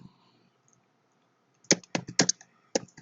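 Arduino code being typed on a computer keyboard, a quick close cluster of sharp key clicks after a quiet opening, loud and alone.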